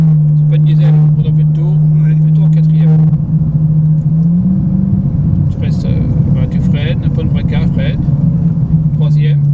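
A Ferrari engine drones loudly and steadily in third gear on a driving course. The low hum rises slightly in pitch as it accelerates, under an instructor's frequent talk.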